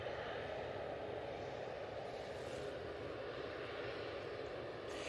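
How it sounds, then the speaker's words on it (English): Ryanair Boeing 737 Max arriving from Rome at Manchester Airport, a steady, faint, distant jet engine drone that holds evenly through the brief clip. "there's the Ryanair Max that's just coming from Rome"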